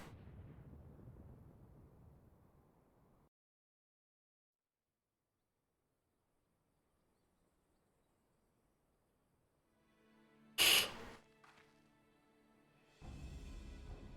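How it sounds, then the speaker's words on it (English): In Final Fantasy XIV, a main tower collapses with a sudden loud explosive boom that follows a long stretch of near silence, then a heavy rumbling burst of crumbling debris that sounds near and powerful. "The main tower just collapsed."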